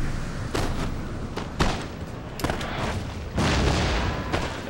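Musket volleys and artillery booms rattle across a Napoleonic battlefield in strategy game Napoleon Total War, with repeated sharp bursts and deep thuds at irregular intervals and a constant battle din underneath.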